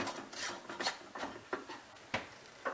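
A silver metal screw band lid is twisted hand-tight onto a glass canning jar of carrots, giving a few short, close rasping scrapes and rubs in an irregular rhythm with pauses between turns.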